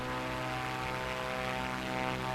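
Steady propeller engine drone of a Cessna 400 in Microsoft Flight Simulator, a constant buzzing hum with strong tonal harmonics, even and unbroken throughout at moderate level with no talk.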